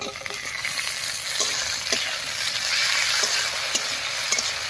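Chopped tomatoes hiss and crackle in oil on top of onions fried until deep red, a steady close sizzle with a few soft stirring scrapes and no voices.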